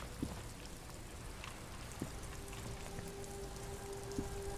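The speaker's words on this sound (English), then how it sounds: "It's raining again." Rain falls steadily in the video game Disco Elysium, a faint, even patter with a few sharper drops standing out now and then.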